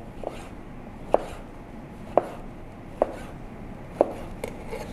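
A knife slices a small vegetable diagonally on a cutting board, four evenly spaced sharp chops about a second apart, close and clear with no speech.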